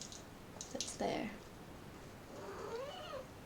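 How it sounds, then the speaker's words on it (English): Willow, a pet cat, gives a soft rising meow near the end, preceded by faint clicks and a brief muffled voice, all quiet in a home room. "that's Willow, my cat"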